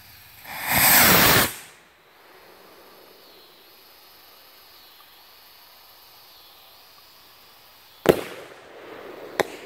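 Homemade one-pound rocket motor burning cedar charcoal fuel fires with a loud roaring whoosh lasting about a second, then fades to quiet outdoor hiss; two sharp knocks follow near the end.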